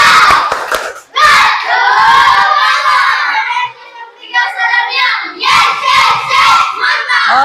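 A Year 4 primary school class in Indonesia doing a spirit clap chant, with loud unison children's voices shouting rhythmically alongside sharp clap bursts and short pauses between phrases.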